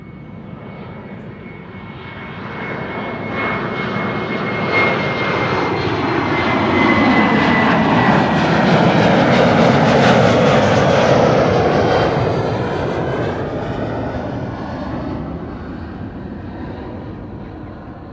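Airliner engines of Suparna Airlines and KLM Cargo aircraft at Amsterdam Schiphol, a rising and falling jet roar that builds to a loud peak midway and recedes, heard alone over about eighteen seconds.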